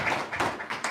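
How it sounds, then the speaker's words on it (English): Audience applause at a live business school event, a short burst of scattered claps over about a second, moderately near and fairly faint. "A round of applause for"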